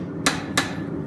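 A hammer strikes a knife blade's bevel on an anvil twice in quick succession, two sharp bright metallic rings close by, with a faint background hum between blows.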